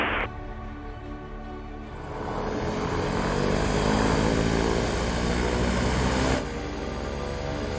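Rolls-Royce Spirit of Innovation all-electric aircraft with its propeller spinning up for the run: a steady whine and whirring drone that swells after a couple of seconds, holds loud and broad, then eases slightly near the end, with no talking.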